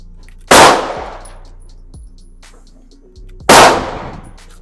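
Two sharp Glock 45 duty pistol shots at an outdoor shooting range, each a loud crack with a ringing decay, spaced about three seconds apart, with faint clicks between.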